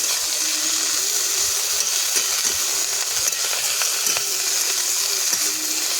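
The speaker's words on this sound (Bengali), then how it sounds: "শাকটা তেলের মধ্যে 2-3 মিনিট কষিয়ে নিয়েছি।" Saag greens stir-fried in hot oil for a few minutes: a steady, close sizzle that holds at an even level throughout, with faint scraping stirs scattered across it.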